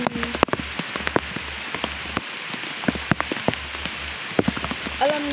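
Rain falls steadily outdoors beside a backyard tilapia fish pond, a continuous wash of patter with scattered sharper drops close by, over a low steady hum.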